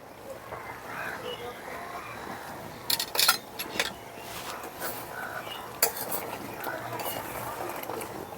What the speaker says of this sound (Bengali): এখন নামানোর আগে দিয়ে দিচ্ছি 1 চামচ ঘি।